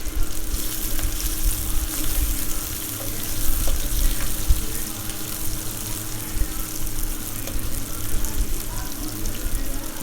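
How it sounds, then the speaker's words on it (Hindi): Sliced onion and green chillies frying in hot oil for a home-style matar aloo, a steady close sizzle and crackle running the whole time, with occasional stirring scrapes and no talk. "दो मिनट चलाएंगे इसको तेल के साथ और एक बड़ा प्याज डाल देंगे जो स्लाइस में काट लिया है"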